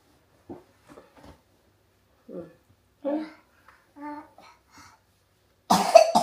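A few soft child vocal sounds and murmurs, then a sudden loud burst of coughing near the end, close to the listener.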